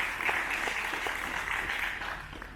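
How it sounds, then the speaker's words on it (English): Applause from a crowd at a farm groundbreaking event, steady moderate clapping that holds throughout before easing slightly at the end. "How about a big round of applause?"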